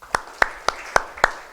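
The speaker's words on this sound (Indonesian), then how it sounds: "Tepuk tangan dulu." Clapping at a Christmas service for mentors comes as six sharp, evenly spaced claps in a slow, steady rhythm, close and distinct, with no talk over them.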